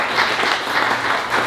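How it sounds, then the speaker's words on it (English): An audience at a local political gathering breaks into steady, dense applause, many hands clapping together at a moderate distance, filling the whole moment without pause. "Just give an applause for our county executive."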